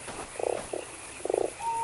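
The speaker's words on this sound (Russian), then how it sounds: "О, жабка!" A frog croaks in bursts, two rapid rattling croaks, a short one, then another, set against a low eerie ambient drone in the Fran Bow video game.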